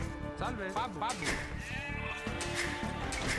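Sheep bleat several times in quick succession in Age of Empires 2, short wavering calls stacked close together over game sounds, loud and near.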